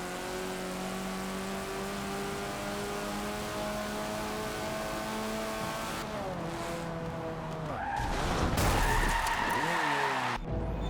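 A car in the racing game Forza Motorsport 7 holds a steady engine drone, then its tires skid and it slams into another car, a louder burst of scraping and impact noise near the end.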